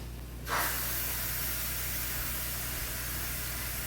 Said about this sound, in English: do a manual pressure release. Let the steam out of this pressure cooker.